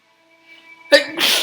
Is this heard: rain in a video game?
no